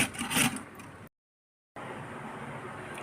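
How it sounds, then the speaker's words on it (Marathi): Amla (Indian gooseberries) grated by hand for a long-keeping murabba: a steady, close rasping scrape that stops for a short silent gap, then resumes at an even level. "किसून घेते सगळे असेच प्रकारे आवळे छानपैकी"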